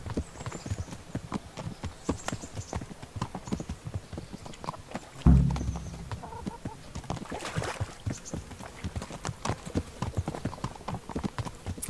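Horse hooves clip-clopping in the video game Kingdom Come: Deliverance, a brisk, regular rhythm of sharp hoof strikes on hard ground, with a brief low thump midway and faint background sounds.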